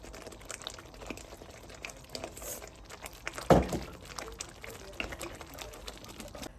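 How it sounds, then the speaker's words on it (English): Pieces of fish go into a simmering curry sauce made with water, giving one soft wet plop and splash midway through a low, bubbling background. "So I'm going to put the fish in."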